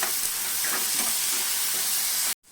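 Roasted, washed barnyard millet sautéing in a pan for a fasting upma, giving a steady close sizzle and fry hiss with soft stirring scrapes, cutting off abruptly near the end.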